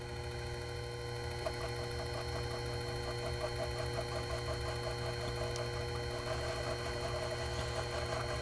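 A Proxxon FF230 benchtop milling machine hums steadily while cutting a light chamfer, with a constant motor whine and faint, regular cutting ticks over a low drone.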